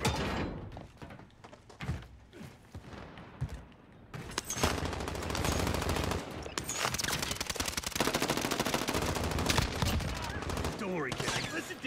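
Gunfire in a first-person shooter rattles out in loud, rapid machine-gun bursts, the dense volleys continuing for several seconds after scattered earlier thuds, while a player's voice talks over the shooting.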